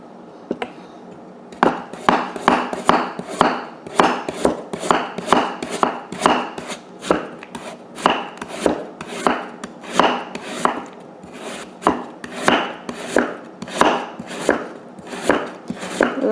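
Knife strikes a cutting board over and over while slicing and shredding a peeled daikon radish, giving a steady run of crisp, close chops at an even rhythm for about fifteen seconds, with no talking.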